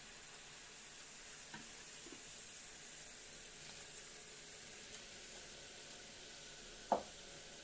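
A pot of marinade with vinegar bubbles and hisses quietly and steadily on a gas stove, with a single sharp clink near the end.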